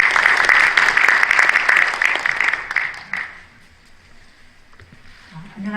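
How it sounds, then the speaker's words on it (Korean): Loud audience applause welcoming a former constitutional court justice to the stage at a Christian school ceremony, dense clapping for about three seconds that then fades to quiet room noise with faint murmurs. "박수로 맞이하도록 하겠습니다"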